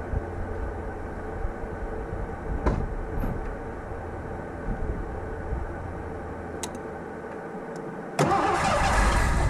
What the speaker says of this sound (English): I'm going to just put a whole bunch of gasoline in there and see if it can fire off